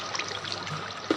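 Water trickles and flows steadily in a Minecraft cave, a soft continuous wash with a brief louder splash near the end.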